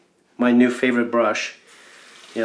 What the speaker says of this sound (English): Sorry for the water noise here.